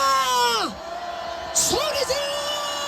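A rally crowd holding pickets overhead at an anti-impeachment protest, letting out a loud collective roar and whoops that swell, dip briefly, then rise again as voices sustain the shout.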